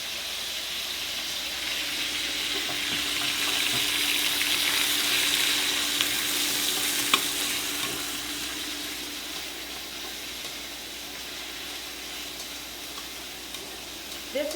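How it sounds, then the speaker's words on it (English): Beef goes all at once into a smoking-hot wok for a Korean stir fry and sizzles loudly and steadily, the hiss swelling and then easing slightly, with a few faint stirring knocks. "Putting the beef in,"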